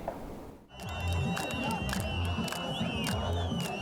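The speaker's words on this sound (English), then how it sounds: "Jubilant crowds flooded the streets of Damascus on Tuesday" Jubilant crowds celebrating in the streets of Damascus: dense cheering and shouting from many voices, with whistles and rhythmic chants, loud and continuous after a brief lull.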